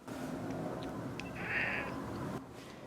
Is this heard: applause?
no